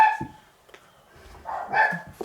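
Dogs barking indoors near a quilting session, a few sharp, loud barks and yips at the start and again toward the end, separated by a quiet pause.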